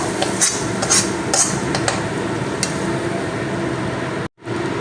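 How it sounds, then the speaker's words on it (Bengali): A pan set down on the stove and spice paste scraped and poured into it, with clinks and knocks of metal utensils against the pan over a steady hiss, then a brief dropout near the end. "একটা প্যান বসিয়ে দিলাম মশলাটা আমি প্যানের মধ্যে ঢেলে দেব"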